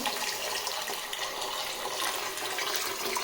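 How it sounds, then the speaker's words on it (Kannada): A steady rushing stream of water pours and splashes into a vessel of finger millet being washed, loud and continuous without pause. "ರಾಗಿನ ಒಂಥರ ನೀರು ಹಾಕಿಬಿಟ್ಟು ತೊಳ್ಕೊಳ್ಳೋಣ"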